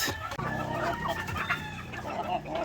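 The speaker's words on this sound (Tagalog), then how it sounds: "nagugutom na sila ito yung mga asil" Asil chickens clucking during feeding on a farm with a mix of feed and whole corn: close, busy overlapping clucks with a rooster-like call among them.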